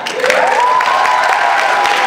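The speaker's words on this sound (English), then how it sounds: "let's give him a round of applause." An audience at a fan convention breaks into loud applause, a dense, sustained clapping crowd with a bit of cheering mixed in.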